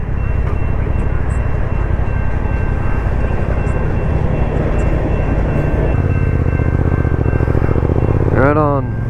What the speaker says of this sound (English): Train here.